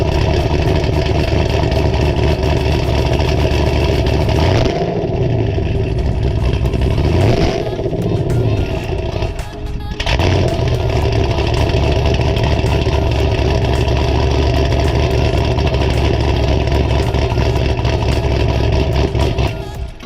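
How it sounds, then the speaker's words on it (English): Cammed 2015 Chevy SS V8 cranking and catching, settling into a loud, lumpy, choppy idle with a couple of brief blips, close by and steady throughout. "Let me go ahead and give y'all a startup on the car."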